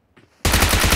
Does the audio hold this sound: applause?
no